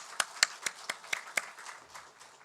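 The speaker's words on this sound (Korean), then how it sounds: "우리 박수로 우리 환영할까요?" A church congregation gives a brief, faint round of applause in welcome, the claps landing in a fairly even rhythm before trailing off.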